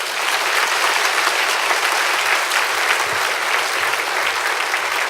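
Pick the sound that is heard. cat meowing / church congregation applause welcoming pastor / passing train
church congregation applause welcoming pastor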